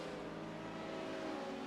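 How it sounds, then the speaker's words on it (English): Steady race car engine drone from a collegiate sportscar challenge broadcast, a constant harmonic hum that holds at an even level throughout with no voices over it. "engine noise while we're waiting for him to sort that out"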